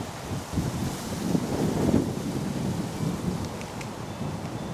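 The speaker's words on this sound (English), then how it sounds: "it's super windy" Steady, loud wind buffeting the microphone outdoors, with a rough low rumble that swells and eases without pause.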